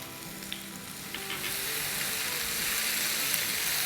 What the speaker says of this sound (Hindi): बस वेजिटेबल्स को हम 2-3 मिनट ही सौटे करेंगे, वो भी हाई फ्लेम के साथ।